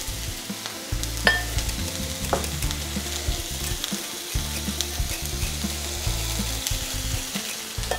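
Olive oil and vinegar whisked together in a bowl for a Caesar salad dressing, a steady close scraping and stirring with rhythmic strokes, no talk.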